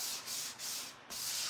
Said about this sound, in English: Just give it a light sanding on this side.